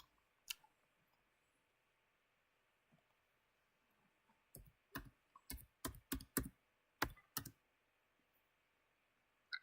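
Keys on a computer keyboard click in a quick burst of sharp taps after a couple of isolated strokes, close and crisp against a quiet background.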